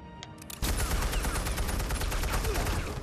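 Gunfire in the Batman Telltale Series video game: after a faint lead-in, a loud, dense burst of shots erupts and keeps going as a sustained rattling fusillade, close and filling the scene.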